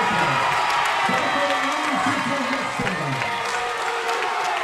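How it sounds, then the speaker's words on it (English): An excited crowd at a basketball district championship cheers, claps and shouts in a loud, continuous roar, with scattered whoops and a voice talking over it. "Boy, you got an excited crowd at BIC."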